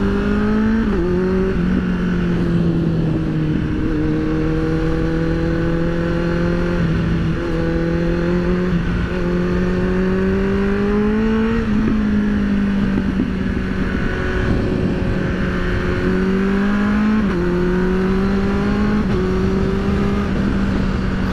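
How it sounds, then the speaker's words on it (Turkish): A Kawasaki Z800 motorcycle's exhaust drones while riding on winding roads, its engine note rising steadily then dropping with each gear change in repeated cycles, loud and close throughout with no talk. "Egzoz sesi duyalım."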